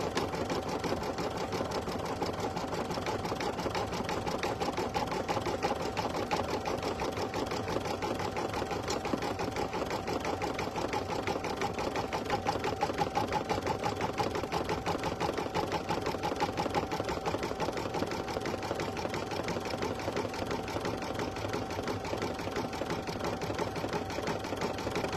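An embroidery machine sews satin stitching on appliqué work, a steady rapid mechanical chatter running loud and close without pause, with no talking.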